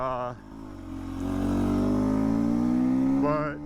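A 2021 Beta 300 RR two-stroke dirt bike revs during a ride, its engine note climbing and holding loud and close for a few seconds, with a brief rider's voice at the start and end.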